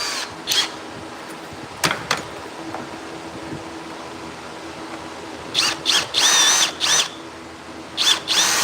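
A power drill boring with a bit into material for a battery tray on a 1968 LeMans, heard as short separate bursts of high whirring, a couple early and a rapid cluster near the end.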